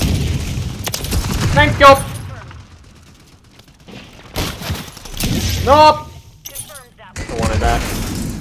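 Gunfire in Call of Duty multiplayer on the Departures map, bursts of shots and booming impacts mixed with game effects, loud and close, with someone talking over and between the shots.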